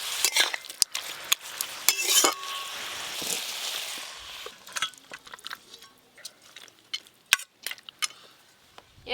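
Cooked shapla with hilsa fish heads is scraped and poured out of a pan, with a burst of wet sizzling and sliding food at first, then scattered sharp spoon-on-metal clinks and scrapes, close up and with no talking.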